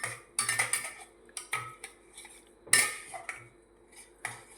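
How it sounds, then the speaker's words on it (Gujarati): Metal spoon clinking and scraping against a pan while sugar is stirred into apple halwa over low heat, a series of close, bright clatters and scrapes in irregular bursts with no talking. "મોરસ બધી મિક્સ બરાબર કરી દો"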